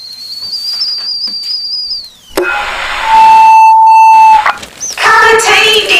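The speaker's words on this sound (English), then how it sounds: "The kettle's on." A kettle gives a sustained high whistle that holds for about two seconds and then slides down and cuts off, followed by a loud electronic tone, rising synthetic chirps and bright tonal effects in a radio ad.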